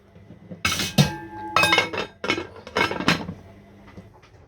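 A metal lid clinks and rattles back onto a pot of red peas soup, several sharp close clatters over a few seconds as it settles.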